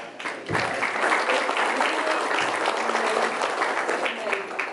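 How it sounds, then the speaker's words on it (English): A water-planning meeting audience gives a brief round of applause, a full, even patter of many hands that starts sharply and sustains for several seconds. "Have a little round of applause"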